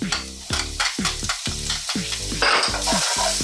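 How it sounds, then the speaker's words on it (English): Garlic and bacon frying in olive oil over medium heat, a steady sizzle punctuated by rhythmic tonal scraping strokes of a utensil stirring the pan, close and loud with no voices. "Heat some olive oil over medium heat. Add the garlic, add the bacon."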